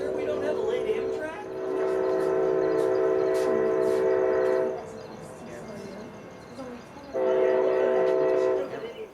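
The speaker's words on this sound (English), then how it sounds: "A lot of rail fans were confused when they heard this EMD horn." An EMD ST-70AH locomotive horn at a Plant City, Florida station sounds two long, loud blasts, separated by a gap where only train rumble and faint platform chatter are heard.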